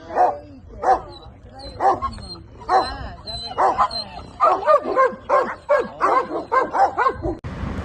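Several dogs barking in a town street, a run of loud, close yips and barks in quick bursts, some overlapping, with a brief whimper-like tone.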